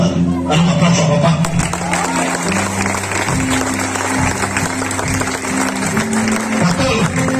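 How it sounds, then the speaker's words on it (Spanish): A church audience applauds steadily and loudly throughout, the clapping mixed with cheering voices and a sustained low musical tone underneath. "Dale un aplauso a papá."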